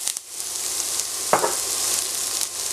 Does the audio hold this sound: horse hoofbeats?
no